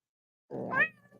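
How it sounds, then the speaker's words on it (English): A cat gives a single short meow, close and fairly faint, rising then trailing off, with no other sound around it. "Is that the cat you talking about?"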